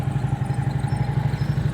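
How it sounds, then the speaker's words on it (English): A motorcycle engine runs at low throttle during slow-speed riding practice, a rapid, uneven throbbing pulse that sounds rough and shaky, steady and fairly close throughout. "Your whole engine is shaking because your throttle's too low."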